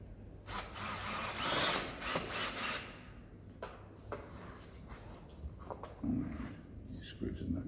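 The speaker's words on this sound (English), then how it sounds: "use the right screws and drill the stair nosing" A power drill driving screws into stair nosing on a step whirs in a few short bursts, loud at first then quieter, with talking and some knocking around it.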